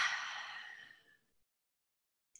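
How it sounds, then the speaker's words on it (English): A long, breathy ocean-breath exhale through the mouth during a gentle mindful movement session, close and soft, fading out over about a second into silence. "Turn your palms away, exhale out your mouth."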